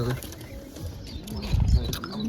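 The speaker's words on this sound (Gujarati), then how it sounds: "ઘણા બધા કબૂતર બેઠા છે લાકડી ઉપર" Many pigeons perched on a wooden stick coo softly nearby, low throaty murmurs overlapping with a faint background voice.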